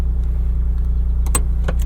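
A 1991 Honda Beat with a five-speed manual idles at a steady low hum inside the small car. A few light clicks and taps sit on top, and nobody speaks.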